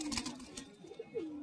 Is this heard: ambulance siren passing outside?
no